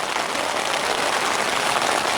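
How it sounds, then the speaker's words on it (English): Pouring rain on a Saturday morning, a dense, even hiss of heavy rainfall continuing steadily throughout without any talk. "Saturday morning, pouring rain."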